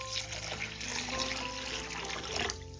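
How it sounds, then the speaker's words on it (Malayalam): Water is poured over washed basmati rice to soak it, giving a quiet, continuous trickling and splashing flow with no one speaking. "അരി ഇതുപോലെ മുങ്ങിക്കിടക്കത്തക്ക രീതിയിൽ വേണം വെള്ളം ഒഴിക്കാനായിട്ട്."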